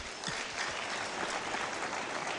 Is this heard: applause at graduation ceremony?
yes